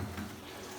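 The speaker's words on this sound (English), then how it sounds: "pour our pudding batter in" Pudding batter poured into hot oil for toad in the hole gives a steady, soft hiss and gentle watery sizzle, close and even for a moment, with no talking.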